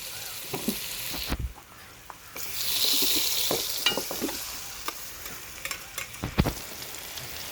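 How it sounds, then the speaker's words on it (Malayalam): Onions and tomatoes frying in a pan, with a steady sizzle broken by intermittent scrapes and clacks of stirring, close and moderately loud with no voices. "ഇതിലേക്ക് ചെറിയ രണ്ട് തക്കാളി ചേർത്ത് കൊടുക്കുന്നുണ്ട്"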